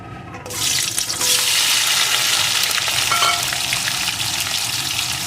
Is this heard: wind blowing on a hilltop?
no